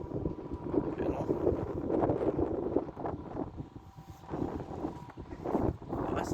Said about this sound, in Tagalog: Lakas ng sandstorm.